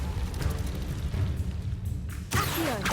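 A Confringo blasting spell explodes in Hogwarts Legacy, a loud booming burst rising from continuous rumbling game noise, with a sharp crackling blast near the end.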